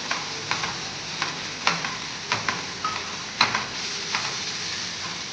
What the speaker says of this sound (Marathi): अशा पद्धतीने टमॅटो भाजून झालेला आहे त्यात मी आता लाल मिरची पावडर टाकते